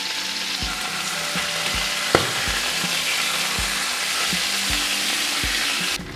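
Karimeen fish shallow-frying in coconut oil in a pan over a medium flame, with a constant loud sizzle and regular soft knocks of a utensil, plus one sharper clink partway through.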